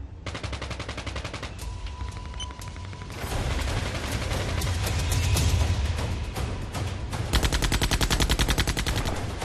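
Bursts of rapid automatic fire from a 7.62 mm machine gun mounted on a Russian Marker unmanned ground vehicle rattle in long continuous volleys, loud and sharp, with a brief pause before a final heavy stretch of firing.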